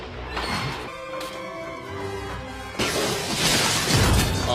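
Glass shatters in a Jurassic Park scene, a sharp crash followed by a bright spray of breaking fragments, loud and close, over dramatic movie sound.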